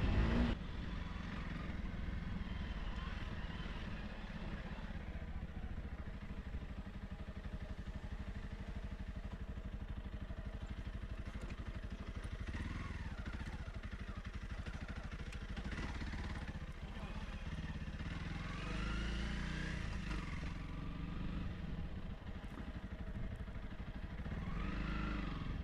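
A Honda CRF300L Rally motorcycle engine drones steadily while riding, with a constant muffled hum and rumble heard fairly faintly throughout and no sharp breaks.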